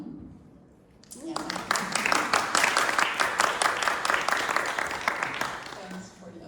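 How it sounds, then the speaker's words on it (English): An audience at a multimedia storytelling event in Leiden breaks into sustained applause, many hands clapping at once, loud and close, then tapering off near the end. "Thanks for the applause."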